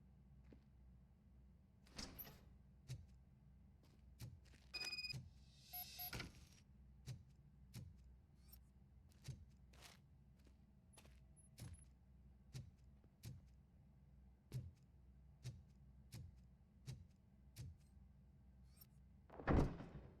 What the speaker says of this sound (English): Now, let me get that door open for you.